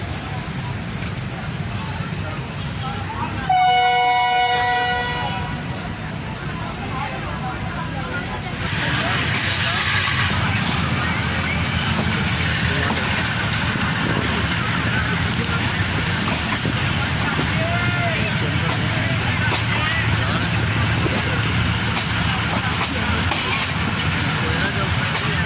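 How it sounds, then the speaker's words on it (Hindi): The 10 Down Allama Iqbal Express, hauled by an AGE-30 diesel locomotive, departs Kot Lakhpat, sounding a loud multi-tone horn blast early on, then a steady heavy engine drone and rumble of the moving train. "कोट लखपत से डिपार्चर कर रही है 10 डाउन अल्लामा इकबाल एक्सप्रेस।"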